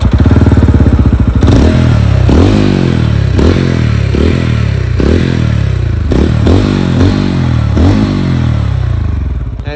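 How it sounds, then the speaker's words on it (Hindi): A single-cylinder 225cc TVS Ronin motorcycle close by is revved repeatedly, about nine sharp throttle blips each rising and falling back to a thumping idle. "Just let me show you the exhaust note."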